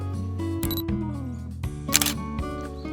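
A camera shutter clicks a few times up close while photographing water lilies, sharp brief snaps over a faint steady background hum.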